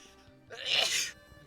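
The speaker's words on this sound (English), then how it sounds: "sorry, I sneezed." A single short sneeze, close and clear, bursting out over a quiet background.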